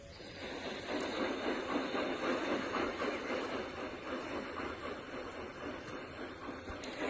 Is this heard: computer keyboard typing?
no